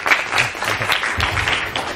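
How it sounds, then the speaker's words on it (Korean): An audience in a school lecture hall claps to welcome a visiting admissions consultant, a steady mass of applause with faint murmuring voices underneath. "자, 박수로 모시겠습니다."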